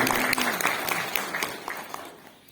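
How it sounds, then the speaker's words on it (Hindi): Audience applause for farmers at a Brahma Kumaris event in Solan on natural farming: loud, full clapping that gradually thins and fades toward the end, with no voices over it. "तो एक बार जोरदार तालियां आप सभी किसान भाइयों को।"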